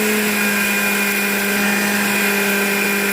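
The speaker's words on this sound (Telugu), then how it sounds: "ఇప్పుడు మిక్సీ పట్టేసుకుందాము మిక్సీ పట్టేసుకుందాం" A mixer grinder grinding ginger and garlic with a little water runs at full speed with a steady, loud, high-pitched whine and grinding roar, cutting off abruptly at the end.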